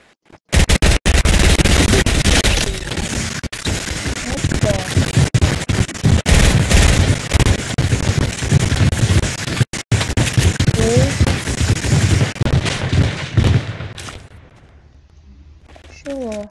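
Fireworks burst in Fortnite as a dense, loud barrage of crackling pops and booms that lasts most of the stretch, then thins into quieter game noise near the end.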